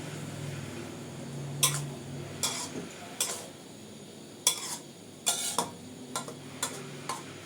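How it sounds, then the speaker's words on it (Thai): Rice noodles with minced pork stir-fried in a stainless steel wok, a spatula striking and scraping the metal in repeated sharp strokes at an irregular rhythm over a soft background hum. "ผมผัดต่อไปเรื่อย ๆ ให้เครื่องปรุงมันเข้ากัน"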